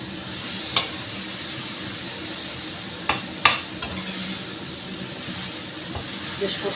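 Ridge gourd curry cooks down with spices in oil, a low soft sizzle under a few sharp spatula clacks against the pan, fairly quiet and without voices.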